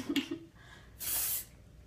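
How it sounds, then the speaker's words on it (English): A can of dry shampoo gives one brief, soft hiss of spray during a hair styling session, with a faint rustle just before it. "So I'll do the dry shampoo"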